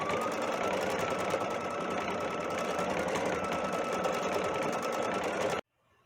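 A sewing machine stitches decorative stitches with a wing needle through fabric held in an embroidery hoop, running as a steady, loud, close mechanical whir for over five seconds before stopping abruptly.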